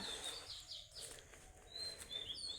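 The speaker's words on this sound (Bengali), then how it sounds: "পাখির ডাকগুলো শুনতে ভালোই লাগে সকালবেলা" Birds chirping outdoors in the morning near a garden with young plants: repeated short, high tweets from several birds come and go over a steady low background hum, moderately faint and not far off.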